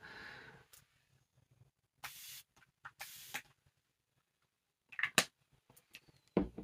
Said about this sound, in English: And I'll use the spray once again